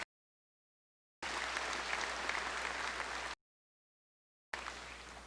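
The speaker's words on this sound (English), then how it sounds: "let's give this group another round of applause" A graduation audience at South Ripley applauds a group of students in a steady, dense burst of clapping, breaks off into silence, then starts clapping again near the end.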